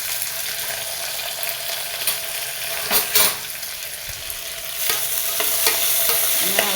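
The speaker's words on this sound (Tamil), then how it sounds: "வெங்காயத்தை போட்டு வணக்குறீங்க." Onions frying in a pan with steady broadband sizzling and scraping stirring strokes, brief louder bursts near the middle, close and continuous with no talk.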